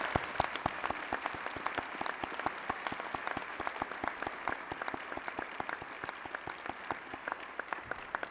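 Audience at a college honors convocation applauding new Honor Society initiates: dense, continuous clapping from a large crowd in a hall, steady and fairly distant, with no pause throughout.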